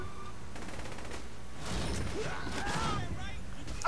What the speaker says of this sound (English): Stop shooting the police, Pierce, you I idiot.